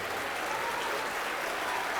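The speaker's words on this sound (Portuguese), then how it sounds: "dê uma salva de palmas poderosa para esta palavra" A church congregation gives sustained, even applause, a dense crowd of clapping that holds steady for the whole stretch with no voices over it.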